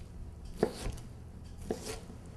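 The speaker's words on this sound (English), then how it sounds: "And now just cut across your cuts." A knife chops tomato on a cutting board in two distinct, well-spaced cuts, close and clear with no talk.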